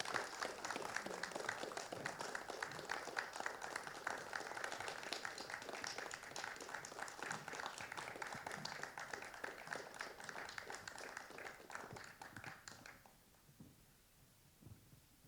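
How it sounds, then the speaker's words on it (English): Sustained audience applause fills the room at a live literary event's prize-giving, dense and steady for about thirteen seconds before fading into quiet room tone. "I'd love for you all to give a massive round of applause to Nusaybah"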